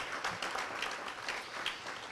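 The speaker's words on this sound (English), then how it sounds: "If we can get a round of applause for all of our great sponsors for this year." A luncheon audience applauds the sponsors with a short burst of steady, moderately loud clapping from many people.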